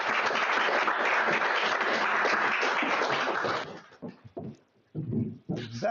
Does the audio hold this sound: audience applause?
yes